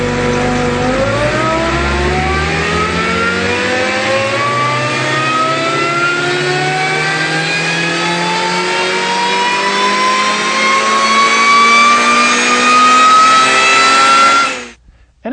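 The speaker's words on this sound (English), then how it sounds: "Let's do the dyno run again" Supercharged Honda engine with a race calibration on a chassis dyno, revving in one long continuous pull from low to high rpm, loud and rising steadily in pitch before cutting off sharply near the end, in a single run.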